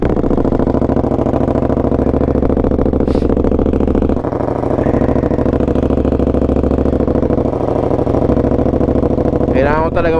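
A motorcycle with a loud exhaust that needs a silencer, running on a group birthday ride. The engine drones close and heavy throughout, with a brief dip midway and steady mechanical clatter.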